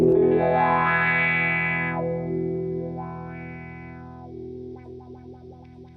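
A sustained distorted electric guitar chord whose tone sweeps up and down in a wah-like vowel motion, ringing for several seconds before a few plucked notes.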